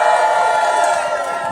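Crowd cheering and whooping at an outdoor writers' and actors' union rally in City Hall Park, New York, a loud dense roar of many voices sustained throughout.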